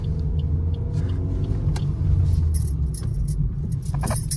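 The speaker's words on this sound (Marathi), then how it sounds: "ये चला, हा निघाली गाडी शेवटी।" A car pulls away and shifts into second gear on a farm outing, its engine a close, steady low rumble with a few light clinks on top.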